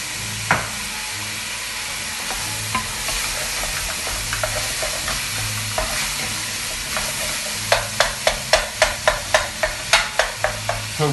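Ground meat for a ragu sizzles steadily in a hot pan while a spoon scrapes and stirs it, and a fast run of sharp clacking strokes picks up toward the end.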